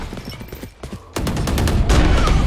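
Gunfire during a Valorant esports match, sniper and rifle shots bursting in rapid dense volleys that swell louder halfway through, close and harsh, with no talk over them.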